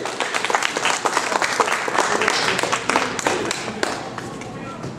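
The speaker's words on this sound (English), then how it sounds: "round of applause for Ray" An audience at a university open-mic night applauds a rock-and-roll performer, a dense steady wash of many hands clapping at close range for several seconds, with some voices underneath.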